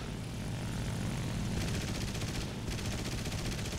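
Kittyhawk fighter in a video game dogfight: steady propeller engine drone fills the clip, with dense machine-gun fire rattling through the middle and again toward the end.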